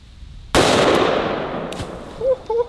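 A single sharp gunshot from a 350 grain Corbon hollow point round fired into a pillow outdoors, a loud close crack with a long decaying ring and brief faint sounds after.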